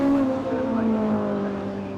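Racing cars, including SU-carbureted Minis, flick in a group through a circuit bend, a steady engine drone that fades slightly as they pass at moderate distance.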